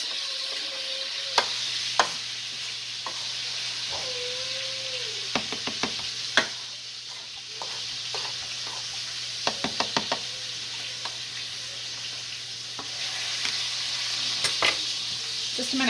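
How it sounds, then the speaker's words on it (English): Chocolate chips being stirred into baking batter: soft, quiet scraping and mixing in a bowl, broken by several sharp knocks and clacks of the spoon or bag, with faint background hum. "Then I think we just stir in the chips."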